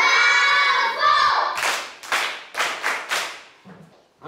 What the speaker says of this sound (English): Eh bien, on applaudit. Bravo!